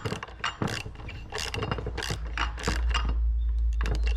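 A ratchet wrench tightens the clutch weight bolts during a primary and secondary clutch kit install, giving a close, rapid run of clicking ratchet strokes in short bursts with metallic creaks between them.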